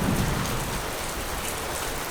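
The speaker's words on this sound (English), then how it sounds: "It's still raining." Heavy monsoon rain pouring over the Western Ghats, a loud dense roar of drops on surfaces, steady and close with no voices.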